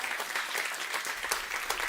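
An audience at a health and nutrition talk on food as medicine claps continuously, a dense, even wash of applause with no voices over it.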